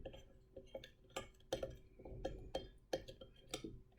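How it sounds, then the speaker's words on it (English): A spoon stirs a sticky, dissolving mixture in a container, with a series of quiet clinks and taps at a fairly regular rhythm. The sound is close and soft, with no talking over it. "Now we're just going to stir it together with the spoon"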